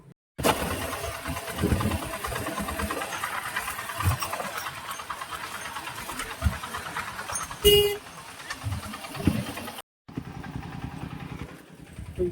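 The small motor engine of a motorized van chugs and rattles continuously, loud and close, with a brief hissing burst before the noise cuts off near the end.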